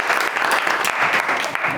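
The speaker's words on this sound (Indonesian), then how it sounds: "beri tepuk tangan buat kelompok merah." Classroom audience clapping for a student group after a STEAM project presentation at a university, a dense, steady burst of applause filling the short stretch at close range.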